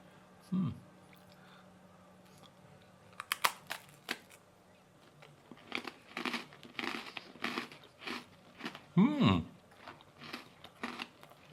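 Marias biscuits being eaten, with crunchy bites and steady chewing that come in bursts across the clip, close and fairly loud, with a little talk in between.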